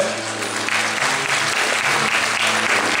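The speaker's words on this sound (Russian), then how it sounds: "Ваши аплодисменты" A theatre audience at a televised vocal show claps loudly and continuously, a thick, even roar of many hands filling the hall from start to finish, with faint music or hum beneath.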